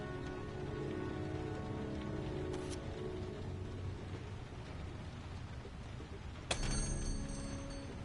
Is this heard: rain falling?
yes